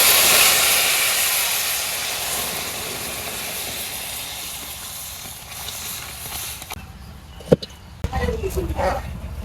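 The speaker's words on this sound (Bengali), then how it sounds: "ডাইলে আমি বাগার দিয়ে দেই" Chopped onion and garlic tempering in hot oil poured into lentil dal, a loud hissing sizzle that slowly fades, followed by a few sharp clanks near the end.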